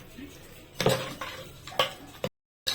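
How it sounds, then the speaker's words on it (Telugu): Clattering of a spoon against a cooking pot while masala dal (pappu) is stirred, a few loud metallic knocks and scrapes spaced about a second apart, close up, followed by a brief silence. "ఇప్పుడు చూడమ్మ కలుపుతున్నా"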